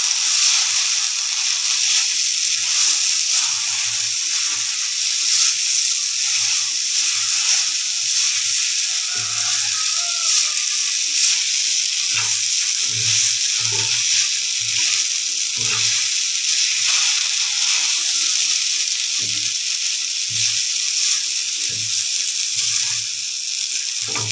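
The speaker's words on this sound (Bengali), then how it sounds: "আলু ভাজিটা হয়ে আসছে" Potatoes fry for aloo bhaji in a pan, a steady loud hiss of sizzling oil running throughout with occasional faint low knocks and stirring sounds beneath.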